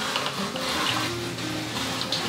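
Water pours steadily from a watering can onto a large indoor houseplant, a continuous trickling splash heard close for a couple of seconds without talk.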